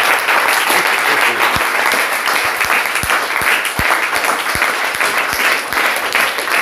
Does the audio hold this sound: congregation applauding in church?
yes